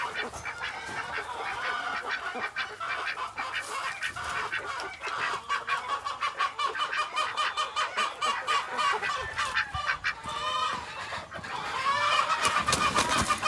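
Americana gamefowl chickens cluck, crow and squawk at feeding time, a busy, continuous flock chorus at close range with rising calls near the end, no talking.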